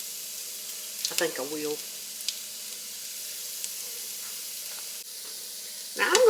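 Green onion sizzles in a pan with a soft, steady frying hiss at moderate distance, while a person talks briefly at the start and again near the end.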